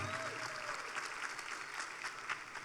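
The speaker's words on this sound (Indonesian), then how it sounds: "Ya, tepuk tangan yang kenceng ya." An audience at an Indonesian e-commerce shipping presentation applauds, producing a steady, fairly distant and soft patter of many hands clapping without pause.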